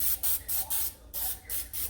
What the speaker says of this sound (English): We're gonna spray these with a little bit of Pam